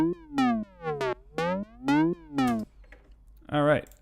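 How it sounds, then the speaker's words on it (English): Dry, soloed lead synth from a Logic ES2 patch plays a short melodic phrase of about six bright, buzzy notes, each sliding in pitch, then a pause and one final note, close and clean with no reverb. "we're going to focus on this lead synth here, which I will play soloed"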